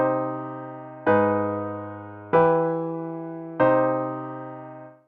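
Four sustained chords of a minor chromatic mediant progression ring out one after another, each struck, then left to decay slowly before the next, with no talking.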